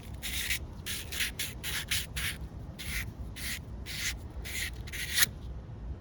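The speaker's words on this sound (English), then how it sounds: "So the wheel cylinder bores, just take some 400 grit sandpaper." Repeated back-and-forth strokes of 400 grit sandpaper scouring the pitted wheel cylinder bores of a 1978 Datsun brake system, a dozen or so short rhythmic rasping passes, close and steady with no talking.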